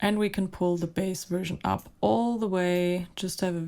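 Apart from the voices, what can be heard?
No everyday noise stands out behind the speech.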